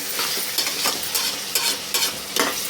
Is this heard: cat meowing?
no